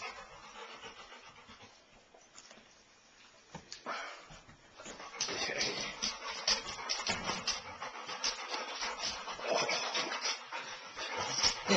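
A dog whimpering and vocalizing at a new toy, a continuous whiny, wheezy stream that grows louder and busier in the second half, with no talk.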